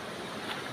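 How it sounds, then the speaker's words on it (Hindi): Water rushes along a mountain stream in a steady, broadband wash that stays even from start to finish, with no voices over it. "तो ये पानी चल रहा है"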